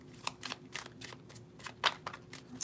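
Tarot cards are shuffled close by in a quiet room, with a rapid series of crisp riffling bursts in uneven rhythm and no voices.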